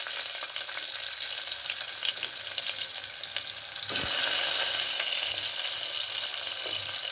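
Onions frying in hot oil with mustard seeds and fennel seeds for a Tamil dal dish, a steady close sizzle throughout that jumps louder and brighter midway as the onions hit the pan.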